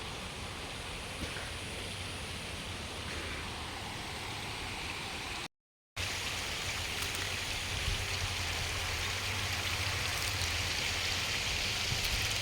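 River water overflows a small village dam at evening, a steady broad rushing roar with a brief cut in the middle, moderately loud and without voices.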